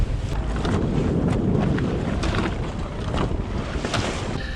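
Strong wind buffets a sailboat at sea while waves wash and surge around the hull, a loud continuous roar with gusty bursts and no voices.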